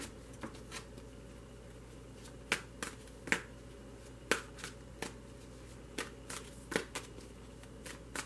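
Tarot cards being shuffled by hand, soft riffling and crisp snapping bursts at irregular intervals, close and quiet, with no talking.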